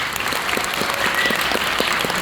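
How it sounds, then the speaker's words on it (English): An audience applauds the jazz band soloists at a high school spring concert. The clapping is loud, steady and continuous, with a few louder individual claps standing out from the crowd. "how about a round of applause for our soloists?"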